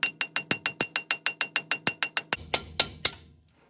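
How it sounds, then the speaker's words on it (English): A wheel stud on a car is punched out with a rapid series of about seventeen sharp metallic clicks at a steady rhythm, slowing and spacing out toward the end before stopping, close and clear with no talk. "Now let's punch out this other stud real fast."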